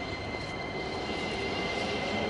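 Metro train at a station, heading toward Kahrizak station, heard as a steady, fairly loud rumble and hiss of rail transport with a faint high whine, continuous throughout without speech.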